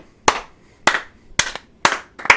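Five sharp hand claps, evenly spaced about half a second apart, close and crisp with no talking.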